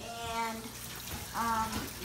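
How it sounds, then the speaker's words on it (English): Hot tap water runs steadily into a sink over two partly frozen chicken breasts, a continuous splashing hiss with no talking. "I just let them run under hot water for a little minute"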